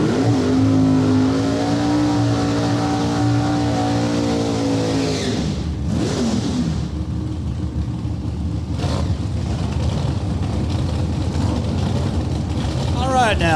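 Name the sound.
NHRA drag racing cars launching down the strip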